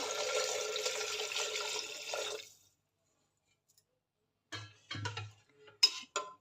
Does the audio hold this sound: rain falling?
no